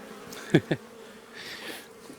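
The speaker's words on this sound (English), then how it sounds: "seeing a few bees flying in and out" Honey bees buzz around a hive during a spring beekeeping inspection on a farm: two sharp, close passes near the start, then a fainter, more diffuse hum.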